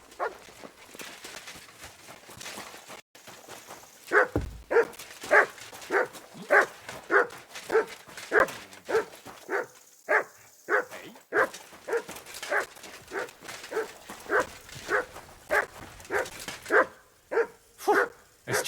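A dog in the medieval game Kingdom Come: Deliverance II barks over and over in a steady, evenly spaced series of sharp, loud barks, close by, with faint game ambience underneath.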